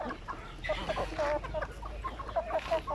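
Chickens cluck at feeding time, several birds making short, repeated clucks and murmurs at close range over a steady low background, with no talk.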